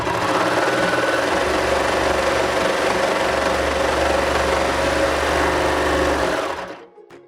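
A Baby Lock serger runs steadily at close range, giving a fast, continuous mechanical whir and hum while it sews a stitch, then winds down and stops near the end.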